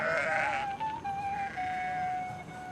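Sheep bleat in a herd, one long wavering cry sliding in pitch and then holding a thin sustained tone, close and fairly clear over a low breezy background.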